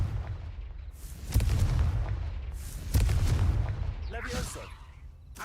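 Two heavy booms from a Confringo fire spell in Hogwarts Legacy, each a sharp crack followed by a rumbling low roar that fades, with a short voiced exclamation near the end.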